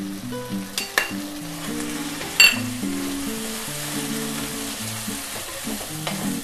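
Onion, tomato, ginger and garlic sizzle and fry steadily in a pan with chilli and turmeric powder, a spoon clinking and stirring now and then.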